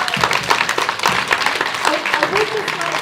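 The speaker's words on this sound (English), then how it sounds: "just another huge big round of applause for Sheila" Audience applause for Sheila Hancock at an evening talk, a dense patter of clapping mixed with crowd voices and some talk, steady and fairly loud throughout.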